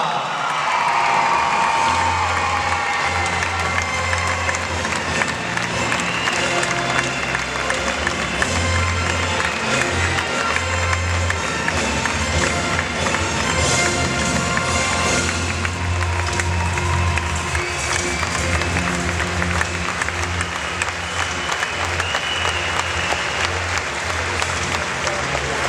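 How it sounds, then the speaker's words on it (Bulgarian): A large crowd at an event in Sofia honoring a rhythmic gymnastics coach gives sustained, loud applause mixed with cheering and occasional whoops, a dense continuous wall of clapping. "Вашите аплодисменти за Ина Ананиева!"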